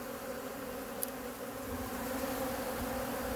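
Steady insect buzzing hums continuously at moderate volume, hornets swarming around an outdoor bee-feeding spot at an apiary, with a brief click partway through.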